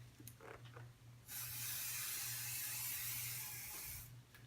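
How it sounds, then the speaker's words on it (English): A steady aerosol spray of waterproofer hisses for about three seconds after a few faint handling sounds, with a low hum running underneath throughout. "I'm gonna spray the waterproofer on the left side."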